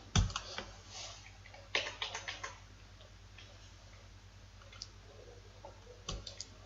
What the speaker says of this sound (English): as you can see, I'm actually typing it for you.